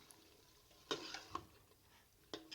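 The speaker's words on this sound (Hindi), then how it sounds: "टिंडे डालकर मज़ीद आपने 3 से 4 मिनट तक अच्छे तरीके से भुनाई कर लेनी है।" Tinda (apple gourd) being fried with mutton for a Pakistani curry: faint soft sizzle with a few brief scrapes of stirring in a pan.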